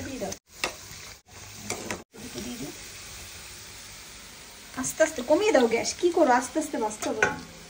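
Ghee goes into hot oil in a pan and frying crackles and sizzles with a few clinks from the pan, while people talk over the cooking.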